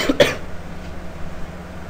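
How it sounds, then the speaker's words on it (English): A single sharp, dry cough near the start, followed by quiet room noise and a low hum. "Sorry about all the coughing."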